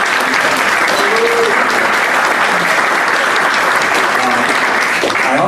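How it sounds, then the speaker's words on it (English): An audience at an InfraGard anniversary event gives a sustained round of applause, dense and loud from start to finish, a steady wash of many hands clapping at once. "Let's give a round of applause to the FBI."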